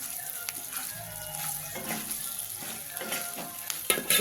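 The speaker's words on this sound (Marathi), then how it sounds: "आपण हे परतून थोड्या वेळ झाकून ठेवू" Long capsicum sautéing with besan in a pan, giving a soft steady sizzle with occasional stirring scrapes and light clinks, fairly quiet and close.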